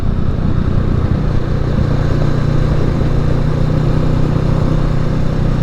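Motorcycle riding through city traffic, its engine droning loud and steady from start to finish, mixed with heavy wind rush and no speech.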